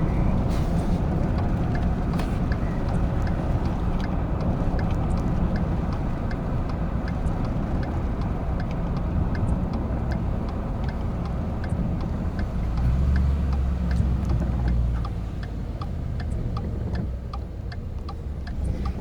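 A car engine runs steadily after a downshift during a brake break-in drive on Power Stop Z36 brakes, a continuous low drone with a faint regular ticking over it and a brief deeper swell of engine rumble near the end.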